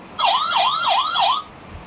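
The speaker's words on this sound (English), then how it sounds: "a police car," Electronic police car siren from a children's learning book, a rapid wailing up-and-down tone repeating about four times in quick cycles, clear and close, with nothing else around it.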